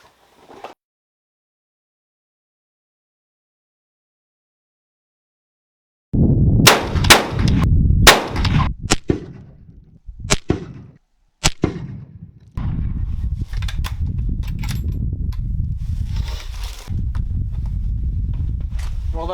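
Rifle firing cold rounds loaded with H1000 powder outdoors, three loud sharp gunshots a few seconds apart after a long silence, followed by steady wind or handling noise.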